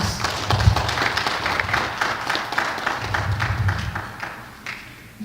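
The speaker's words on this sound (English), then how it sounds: "Give him a round of applause." Audience applause at a lecture or tribute event, a steady wash of clapping across the whole stretch, moderately loud and sustained before it thins out near the end.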